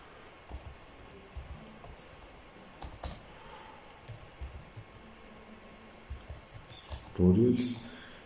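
Soft, irregular clicks of typing on a computer keyboard while entering folder names and commands, quiet and close, with a louder bump near the end.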